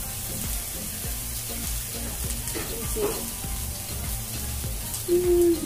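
Tomatoes sizzle on a grill with a steady crackling hiss, joined by light clicks and taps from the cooking, with a short tonal squeak near the end.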